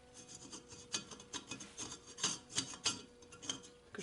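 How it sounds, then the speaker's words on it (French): A large nut being spun by hand onto a threaded front-axle part from a Citroën Traction 11 car, giving a rapid series of close metallic rasping and rubbing strokes with no talking. "je mets l'écrou. Voilà, ça visse."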